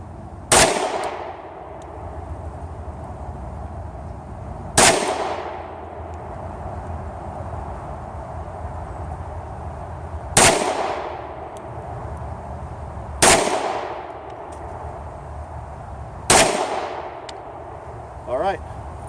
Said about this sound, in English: I'll take 5 more shots